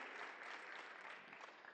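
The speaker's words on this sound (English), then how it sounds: "Please give him a big round of applause" Steady applause from an audience fills the whole stretch, dense and even with no voices over it.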